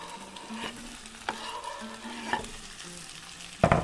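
Chopped potatoes frying in a pan for aloo matar pulao, with a soft continuous sizzle broken by several spoon or spatula stirs and a louder scrape near the end.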